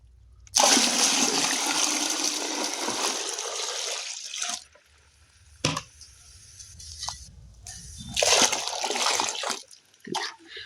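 Water splashes and pours in two loud, sloshing bursts as it is mixed into fertilizer, with a quieter stretch of scattered clinks and drips between them.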